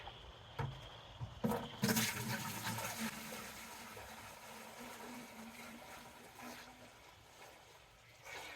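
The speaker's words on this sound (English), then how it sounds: "Now, to pour in this mixture." Hydroponic nutrient mixture pours into a bucket for an off-grid growing system, a steady splashing gush running the full length at moderate level after a few sharp knocks near the start.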